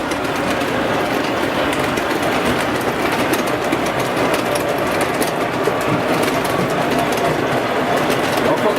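A model train runs steadily on its track, a dense continuous rumble with faint rhythmic clatter, loud and unbroken throughout, with no talk.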